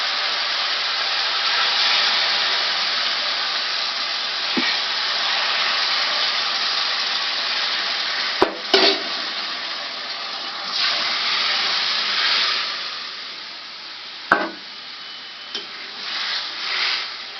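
Lentils go into a pan of fried spice paste while cooking a Bengali eggplant and neem leaf dish, producing a steady, fairly loud sizzling hiss that runs throughout, with a few brief clinks and scrapes.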